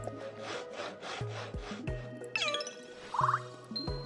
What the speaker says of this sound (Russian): Золотая пила, чтобы пилить золотые прутья.